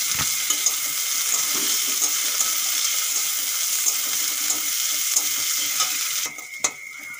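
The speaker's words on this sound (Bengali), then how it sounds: "পেঁয়াজ একটুক্ষণ ভেজে নিয়েছি" Chopped onion frying in hot oil in a wok with garlic and ginger, a dense, constant close sizzle with faint scattered pops and a brief stirring knock near the end, no talk.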